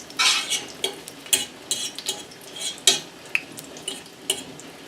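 Butter melts and sizzles in a pan for gravy as a utensil stirs and scrapes the pan, giving a close, steady frying hiss broken by repeated sharp scrapes and clinks.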